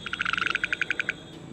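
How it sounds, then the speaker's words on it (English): Male skipper frogs calling at an ephemeral pool beside a construction site, a quick rapid train of about fifteen bright pulsed notes that slows slightly toward the end, fairly faint and heard alone. "for these two male skipper frogs, it's a contested sight"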